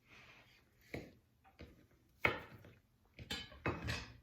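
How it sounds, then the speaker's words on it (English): A knife slicing onion into julienne strips on a board, giving a handful of separate sharp chops and taps at irregular spacing, close and fairly crisp, with nobody speaking. "So I'm going to cut them all into strips."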